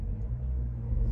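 A manual-transmission Ford Bronco pulls away as the clutch is let out, giving a steady, close low engine rumble that holds level throughout without any talking.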